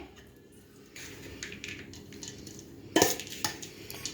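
Bhel puri being mixed in a bowl with a utensil, giving scattered clinks and scraping knocks that grow louder and sharper toward the end, close by with no talking.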